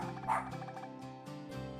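A dog in the Pixel Puzzle Makeout League video game gives a few short barks and yips in quick succession, close and clear over a faint musical background.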